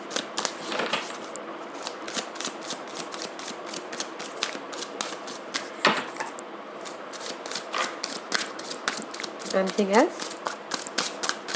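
Tarot cards shuffled in a rapid, crisp riffle that runs throughout, close to the listener, with a voice talking over the cards.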